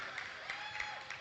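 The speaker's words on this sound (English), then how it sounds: "Big round of applause for your for your" Brief applause for podium athletes at a regional championship in the Cayman Islands, a light, faint patter of hands in a large hall with a few rhythmic accents.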